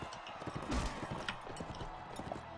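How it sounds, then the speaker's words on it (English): Horse hooves clip-clopping in Mount & Blade: Warband, a steady patter of hoofbeats with a brief louder burst, heard alone with no talk. "Oh, there are some horses left"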